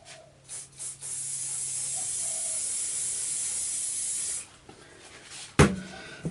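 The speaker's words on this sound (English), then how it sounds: "give all this an overspray of hairspray." Hairspray from an aerosol can sprays over handmade model bushes in one long steady hiss lasting several seconds, close by, with a couple of short puffs first and a clunk afterward.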